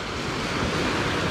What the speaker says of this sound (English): Waves. All of this. The tide's actually coming in now.